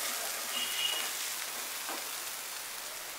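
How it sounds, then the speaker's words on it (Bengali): Chopped green chilies frying lightly in oil in a pan for an aloo bread pakora filling, giving a soft, steady hiss at low volume with no voices. "এগুলো একটু হালকা করে ফ্রাই করে নেব"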